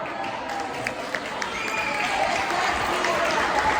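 A crowd at a college Easter brunch claps and cheers continuously, a dense steady wash of applause with scattered sharper hand claps and voices mixed in throughout.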